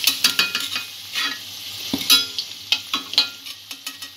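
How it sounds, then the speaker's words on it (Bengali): Potatoes frying in oil in a pan, a loud sizzle broken by repeated sharp clinks and scrapes of a utensil stirring and lifting the pieces, close and without talk. "হালকা ব্রাউন করে আলুটা ভেজে নিয়েছি।"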